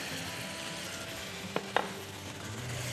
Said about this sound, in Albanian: I trazojmë gjitha këto së bashku.